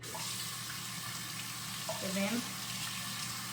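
Tap water runs steadily into a kitchen sink while tripe is rinsed for a traditional stew, giving an even, close hiss throughout as a voice speaks briefly partway through.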